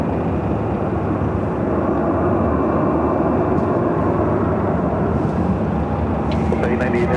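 A United Airlines Boeing 737-800 jet on runway 24 Left at Los Angeles International Airport gives off a loud, continuous engine roar that stays steady throughout, with faint talk in the background.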